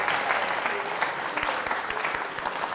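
A studio audience at a student quiz show semifinal claps in dense, steady applause that holds at an even level throughout.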